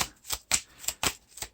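A deck of cards is shuffled during a Lord of the Rings tabletop card game, giving quick, crisp rhythmic riffling bursts close up.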